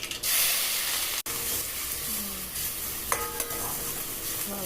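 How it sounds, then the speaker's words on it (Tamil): Small shallots hitting hot oil in a pan for Madras-style fish gravy, a steady close sizzle and hiss with stirring scrapes, one brief cut partway through, no talk. "சின்ன வெங்காயம் அதை போட்டுக்கலாம்"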